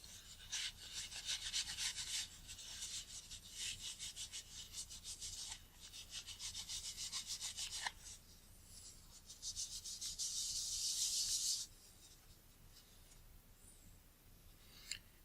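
Toilet paper rubbed across a glass element from a Nikon Nikkor 50mm f/1.4 pre-AI lens during cleaning, giving repeated scratchy wiping bursts in several sustained passes with brief pauses, close and fairly quiet, with no talking.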